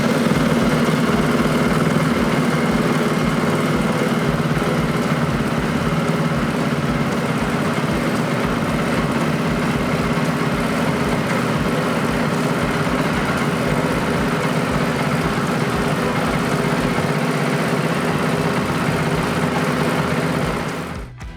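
A CSC adventure motorcycle engine idles steadily for about twenty seconds while warming up, a low continuous rumble with an even pulse, then cuts off at the very end.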